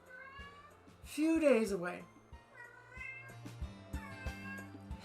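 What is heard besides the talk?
pet cat crying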